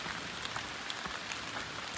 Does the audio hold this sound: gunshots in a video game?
no